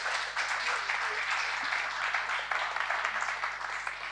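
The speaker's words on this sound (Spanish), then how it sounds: "Es un aplauso, ¿no? Para" A lecture audience applauds speaker Flavia Costa after her talk, a steady, moderately distant wash of clapping with faint voices beneath.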